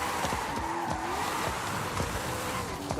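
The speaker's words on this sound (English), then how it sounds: "This is the 1970 Pontiac Trans Am," A 1970 Pontiac Trans Am Hot Wheels edition drives in Forza Horizon 5, its engine droning steadily and up close, with tire squeal and shifting revs throughout and no voices.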